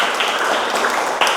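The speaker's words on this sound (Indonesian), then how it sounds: "Beri tepuk tangan untuk kelompoknya Farhan." Students in a classroom give a short burst of steady applause for a student group, with dense, close clapping filling the moment.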